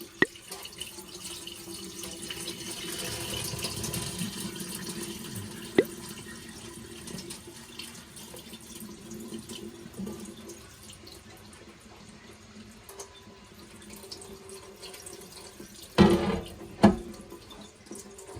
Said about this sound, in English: I'm gonna strain this with a coffee strainer.